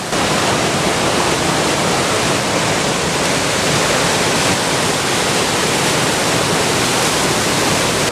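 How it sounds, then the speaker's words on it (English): Steady, loud broadband rush of a fast river in the High Sierra mountains, continuous roaring water from close range with no letup and no voices. "So this one seems impossible to cross. This is actually a river."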